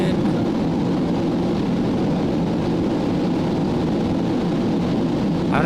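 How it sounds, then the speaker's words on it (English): A loud, steady airliner engine roar fills a flight simulator cockpit, a constant broadband drone with no letup throughout. "I don't even know if you can hear me over the plane"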